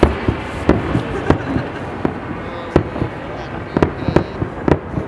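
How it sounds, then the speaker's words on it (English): Canada Day fireworks at Assiniboine Park, Winnipeg, burst in a series of sharp bangs at irregular intervals over a low background rumble, with voices faintly present. "Here comes the big ones."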